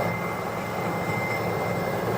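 Helicopter flight noise fills the cabin as a steady, loud broadband roar with a constant engine whine and no breaks.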